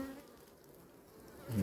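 Honey bees buzz steadily at the entrance of a four-colony hive in an apiary, a soft continuous hum close by with a slightly louder swell at the end.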